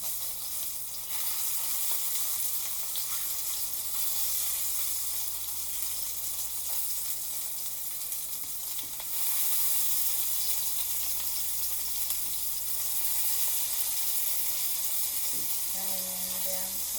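Dumplings frying in a pan, a steady broadband sizzle and spatter running throughout at close range, with a brief break near the end.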